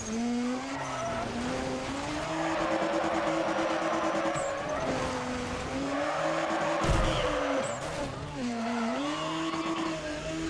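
Racing car drifting in Need for Speed ProStreet, engine droning steadily throughout with sustained tire squeal and skidding, a brief louder burst midway, loud and continuous without speech.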